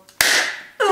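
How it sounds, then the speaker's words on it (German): A New Year's Eve firecracker goes off outdoors with one sharp, loud bang that decays over about half a second, followed quickly by a second burst. "Soll ich jetzt den Knaller zünden?"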